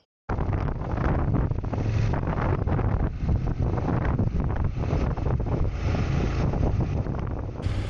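Strong desert wind buffets the microphone in a continuous, loud, low roar that starts abruptly and rumbles unevenly throughout.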